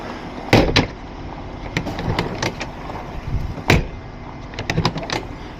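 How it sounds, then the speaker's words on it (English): An RV door is opened and shut a few times, with clunky latch thumps and rattles spread over several seconds against a background of room noise. "door opens and shuts smoothly, meaning the chassis isn't twisted"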